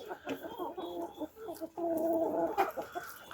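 Large hens in a Ukrainian farmyard cluck close and continuously, their busy, overlapping calls rising and falling with no voices over them.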